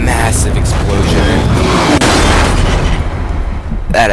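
A massive explosion in the video game inFamous, set in a New York-like city, roars as a loud, sustained broadband blast that fills the whole stretch, with another burst near the end.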